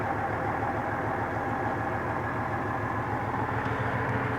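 MTZ 1523 tractor diesel engine running at a steady idle, a continuous low rumbling drone with even pulsing throughout, close and alone with no voices.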